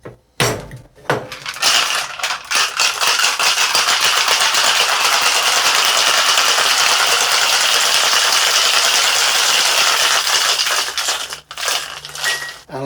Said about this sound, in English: Let me get some ice. And let's give this bad boy a shake.